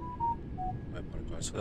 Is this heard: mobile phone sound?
yes